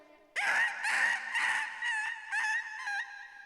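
A voice mimics a female dog yelping and crying after being struck in a fight, a burst of loud, close, strained wails that rise and break, followed by shorter sobbing cries.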